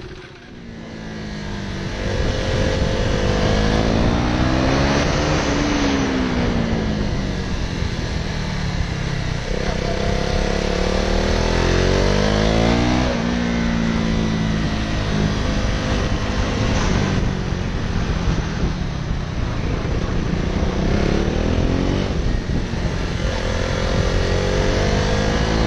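A KTM motorcycle on a Hyderabad race track day, its engine loud and close throughout, rising and falling in repeated revving sweeps as it accelerates, shifts gears and slows, with heavy wind rumble.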